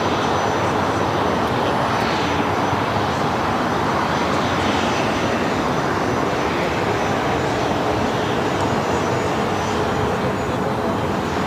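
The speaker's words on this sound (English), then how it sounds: "We have the Qantas A380 also headed over to the south side." Airliner engines at Los Angeles International Airport, a Qantas A380 and an American 777 among the traffic, a loud continuous roar and whine from the taxiing aircraft, steady throughout and close.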